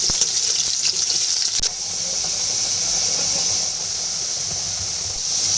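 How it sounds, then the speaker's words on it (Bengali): Potato pieces frying in oil in a pan for Bengali-style chicken khichuri give a loud, steady sizzling hiss that runs unbroken throughout, close up with no talking. "আমি আগে আলুগুলো ভেজে নিচ্ছি"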